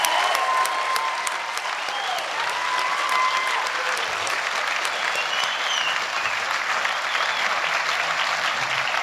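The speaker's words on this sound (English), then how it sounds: "Let's give these cadets a huge round of applause" A large crowd gives sustained, dense applause for graduating cadets at the Washington Youth Academy commencement, with steady clapping and occasional faint cheers throughout.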